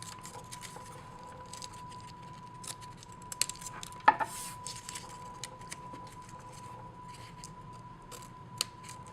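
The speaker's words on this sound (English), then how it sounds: "So you just take your scissors and cut along the edges, making sure you don't cut the actual ornament." Scissors snipping through paper along the edges of a folded paper star ornament, a series of quiet, irregular crisp cuts, close and faint, with no talking.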